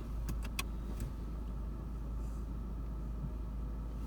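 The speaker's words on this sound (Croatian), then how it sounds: "Prilaze auto" A car engine rumbles steadily at low volume, with a few brief clicks at the start; no voices.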